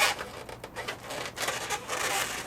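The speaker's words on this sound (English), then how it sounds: "I'm going to draw just some simple eyes on them." Marker tip scratching across an inflated mocha brown latex balloon while simple eyes are drawn, a close, continuous squeaky rubbing with short strokes.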